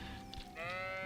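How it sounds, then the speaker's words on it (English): A sheep bleating in the video game Kingdom Come: Deliverance 2, a single close, wavering bleat that swells in its second half, with no talking. "Ooh, sheep."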